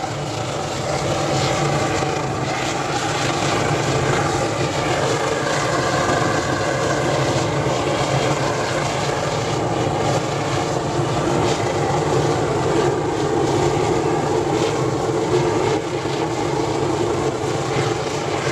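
A steady, loud, continuous roar comes from an oil burner firing a simple furnace that melts aluminium car parts such as a manifold, with no breaks from start to end.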